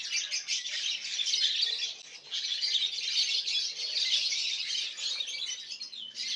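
Dense, continuous chirping and squawking from many birds close by, a busy flock chattering without pause.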